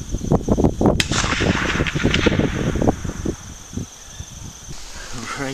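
A single sharp AK rifle shot with a UTG red dot, firing a Lee 160 grain spitzer cast bullet at a target 237 yards away, cracks loudly outdoors amid wind and background noise, with a voice heard around it.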